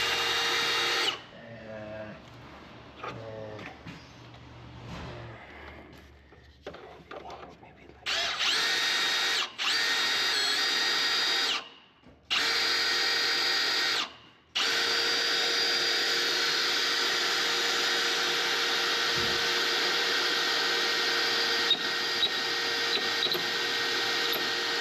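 A handheld power drill fitted with a reamer bores through a Kenworth truck. It gives a loud, close, sustained whine that cuts out briefly twice, and faint voices are heard near the start.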